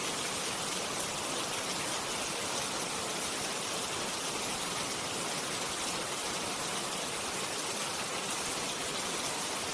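Steady, dense rain pours down without a break, a uniform hiss of falling water that stays loud and even throughout, with no voices.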